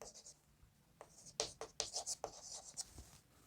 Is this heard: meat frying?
no